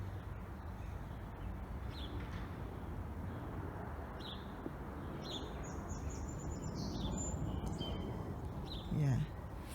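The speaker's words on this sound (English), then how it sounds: "Can you hear the birds?" Birds in an urban cottage garden give faint, scattered chirps and calls, some crow-like, over a steady low outdoor rumble, with brief bird notes recurring through the middle.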